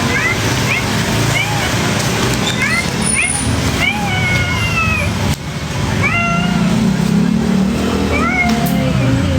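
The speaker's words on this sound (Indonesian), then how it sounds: "melihara kucing yang ini, kucing bogel" A hairless cat meows repeatedly in short rising calls over a loud, busy background of indoor noise and a voice talking.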